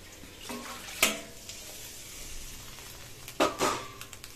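Water is poured into a sizzling pan of spiced soybean curry, giving a hissing sizzle with two sharper splashing bursts, close and moderate in level, with no talking.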